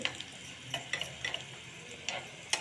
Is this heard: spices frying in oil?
yes